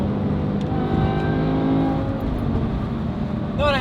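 Loud V10 roar from a BMW E60 M5 fitted with a valved exhaust and stock headers as it pulls hard under acceleration, the steady engine drone rising in pitch, with a brief high squeal near the end.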